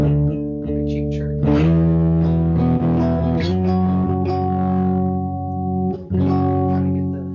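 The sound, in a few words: bass guitar through pedalboard effects, 12-string-like chirp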